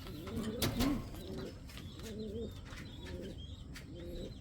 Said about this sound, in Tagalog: Crested na racing pigeon.